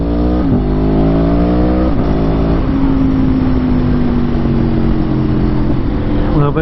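Exhaust of a 2021 Aprilia Tuono motorcycle while riding, a loud, steady engine drone whose pitch climbs and falls through gear changes, heard close up with wind rush and no talking.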